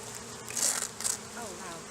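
Honey bees buzz around an open beehive frame with brood, a close, shifting hum with brief louder swells as individual bees pass near.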